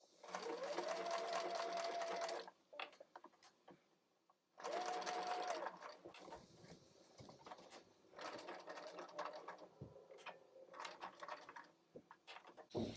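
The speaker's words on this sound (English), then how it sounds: "this darker green fabric is a knit, so it's shifting a little bit, which is why I'm having to adjust my presser foot as I sew" A sewing machine stitches knit fabric in bursts of steady, close whirring, stopping and starting again as the fabric is adjusted, with faint handling noises between runs.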